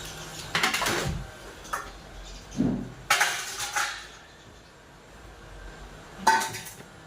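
Dishes, pots and utensils clink and clatter while being washed in a family home kitchen, in a few sharp, scattered bursts with quiet gaps between them.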